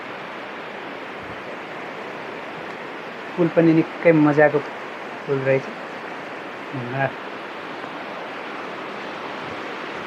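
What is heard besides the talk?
large swollen river flowing under a bridge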